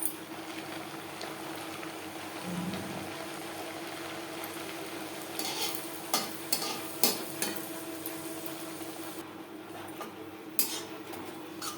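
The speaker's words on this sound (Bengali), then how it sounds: "প্রত্যেকটা কচুরি একইভাবে ভেজে নেব" Moong dal kachori frying in hot oil produce a steady low sizzle, with scattered metallic clinks of a slotted spoon against the pan from the middle onward, heard close with no talking.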